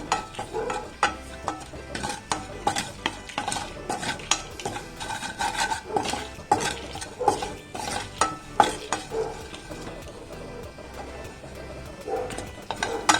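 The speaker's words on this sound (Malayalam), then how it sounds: "ഫ്ലെയിം നമുക്ക് കുറച്ച് വെച്ച് തന്നെ നമ്മളിത് നല്ലപോലെ ഇതുപോലെ മൂപ്പിച്ചെടുക്കണം." Spices and ingredients sautéing in a little oil over a low flame, with constant close metal spatula scrapes and clinks against the pan over a soft sizzle.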